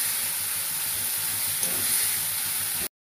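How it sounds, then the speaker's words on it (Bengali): Curry paste with potato filling frying in a pan while being stirred, a steady loud sizzle and hiss with faint scraping, close and continuous until it cuts off abruptly near the end. "দিয়ে আমি ভালো করে নাড়তে থাকবো।"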